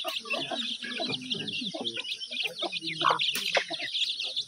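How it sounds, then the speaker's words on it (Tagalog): A crowd of young chicks keeps up a dense, continuous peeping and cheeping, close and fairly loud, with occasional clucks from a nearby hen or rooster mixed in. "grabe ang daming mga sisiw."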